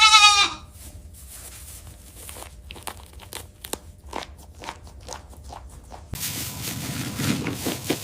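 Toggenburg and Alpine goats on a goat farm give a clear bleat at the start, followed by scattered crunching and rustling noises and a louder burst of rough noise near the end.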